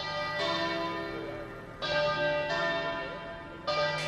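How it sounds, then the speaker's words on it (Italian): Church bells ringing for a funeral in Anguillara Veneta, Italy, several bells sounding in repeated clangs with long shimmering decays, clear and fairly loud with no voices. "il silenzio rotto dal suono delle campane"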